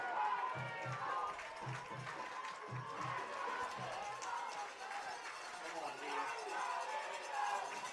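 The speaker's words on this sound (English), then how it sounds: "Crowd coming alive for both sides" A football stadium crowd cheers and roars during a third-down play, a dense continuous swell of voices with whoops and some thumping, heard at a distance with a commentator's voice over it.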